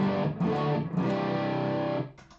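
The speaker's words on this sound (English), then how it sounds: "my DS1 distortion is into patch 3" Electric guitar played through a Boss DS-1 distortion pedal: a few loud, buzzy distorted chords strummed and left to ring, fading slightly at the end, with no talking.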